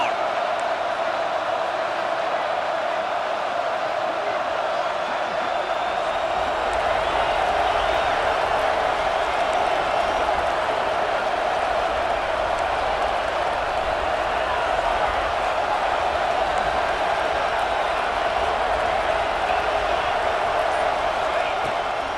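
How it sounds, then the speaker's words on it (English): A stadium crowd at a football game cheers and roars through a defensive third down, a dense, continuous wall of noise that swells partway through and holds loud for over twenty seconds. "Crowd getting this defense whipped up on 3rd down."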